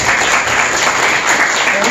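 An audience claps at a plaque presentation during a Korea Fishing Association president inauguration ceremony in a wedding convention hall, a dense, loud, steady applause throughout.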